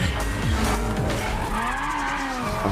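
A race car tears through a street race, its tires squealing and skidding in several sharp bursts over a revving engine, close and loud for a few seconds.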